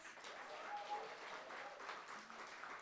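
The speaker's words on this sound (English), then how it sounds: "can we get a round of applause" Steady applause from a crowd, a continuous even patter of clapping heard from some distance, fairly faint.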